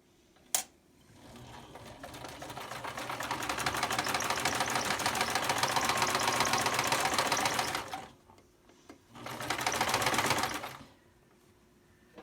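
An old Kenmore sewing machine stitches a fabric surgical mask in a long steady run of rapid needle clatter, pauses briefly, then sews a second shorter burst, close and clear with no talking.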